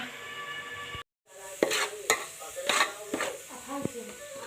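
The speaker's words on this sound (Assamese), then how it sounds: "মই ইফালে নাৰিকল ভাজি আছোঁ মানে লাড়ু বনোৱাৰ কাৰণে" Coconut fries in oil in a pan while a utensil scrapes and stirs in repeated strokes, after a brief moment of silence near the start.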